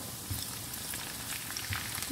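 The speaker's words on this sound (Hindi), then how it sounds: "हमारा तड़का देसी घी में तैयार हो रहा है" A soft, steady sizzle of whole dried red chillies and spices tempering in hot desi ghee, quiet and close, with a few faint pops.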